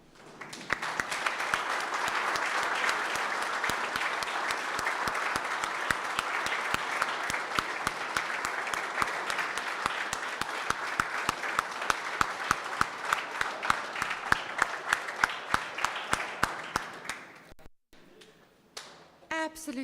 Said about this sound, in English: So let's applaud them.